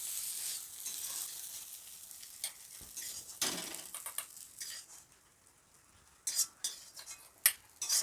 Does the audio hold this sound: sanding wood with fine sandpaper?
no